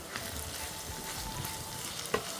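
Minced kibbeh meat sizzles softly in oil with onion and ghee, a quiet, even frying hiss with faint stirring scrapes and one brief clack near the end.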